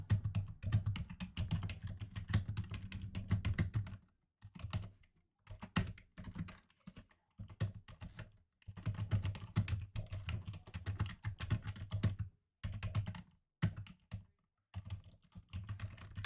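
Keys clatter on a computer keyboard as a chat message is typed during a game, close bursts of rapid clicking broken by short pauses.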